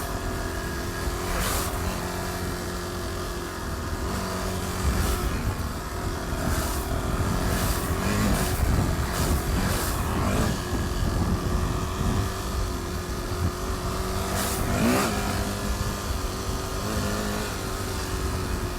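A Yamaha WR400F dirt bike engine on a green lane, steady and fairly loud, with uneven throttle blips and surges while the rider holds power on; sharp knocks and bumps cut through the drone.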